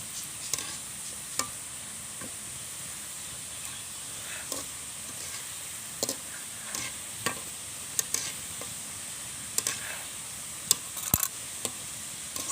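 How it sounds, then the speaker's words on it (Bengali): Gaja dough fries slowly in oil with a faint, steady background sizzle, broken by soft scattered taps and clinks of a utensil. "এভাবে আস্তে আস্তে জাল করে ভেজে নিতে হবে"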